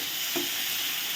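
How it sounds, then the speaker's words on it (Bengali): Chopped onions and slit green chillies fry in a pan, a steady close sizzle with one brief stir or scrape partway through, no talking. "এবার পেঁয়াজটাকে আমি একটু ভালো করে ভাজা ভাজা করে নেব"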